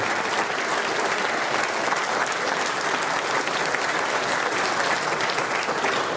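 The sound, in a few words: audience applause at closing ceremony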